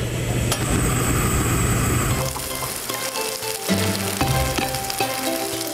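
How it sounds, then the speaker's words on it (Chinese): Chicken stir-frying in hot oil in a pan, a loud, dense sizzling crackle for about two seconds, then quieter under steady tonal sounds. "油花乱颤，油炸爆炒过的鸡肉注入一滴滴甘醇"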